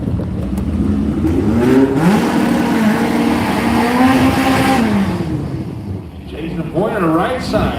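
Pro stock VW Beetle drag race cars rev loudly at a drag strip with a sustained, rising and falling engine roar, while a voice talks over it.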